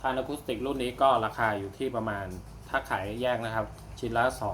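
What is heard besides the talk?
No everyday noises stand out.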